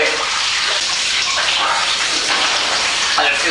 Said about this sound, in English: And it feels very good to be in the shower and to be getting warm.